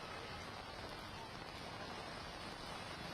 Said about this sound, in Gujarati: સુરત શહેરમાં વિવિધ વિસ્તારોમાં ગાજવીજ સાથે ધોધમાર વરસાદ વરસી રહ્યો છે